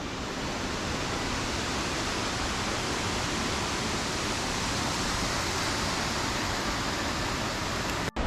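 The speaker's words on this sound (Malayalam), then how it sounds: "നല്ല മുകളിൽ നിന്നാണ് വെള്ളം വീഴുന്നത് കേട്ടാ" Mallalli waterfall in Coorg, a high fall surrounded by dense forest, pours in a steady, loud, broadband roar of water crashing from height, close and unbroken throughout, cutting off abruptly at the very end.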